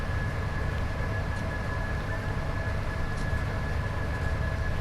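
Electric locomotive from Train Sim World 5, a British Rail Class 87, running under power with a steady loud rumble and broadband rail roar, a faint sustained tone riding over the continuous noise throughout.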